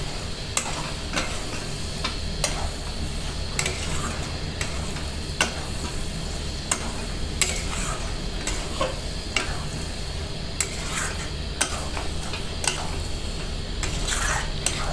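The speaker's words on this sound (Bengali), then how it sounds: "ডিম আর লাউ এভাবে মিশিয়ে নেব" Egg and bottle gourd being stirred in a frying pan, with a steady sizzle underneath and regular scraping clicks of the spatula recurring every second or so, close and moderately loud, no talking.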